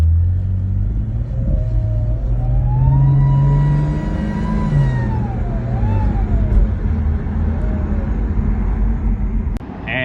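A Cadillac ATS-V twin-turbo V6 drives with a loud, steady engine drone while an odd, wavering whine rises and falls above it for several seconds, ending with a brief sharp noise.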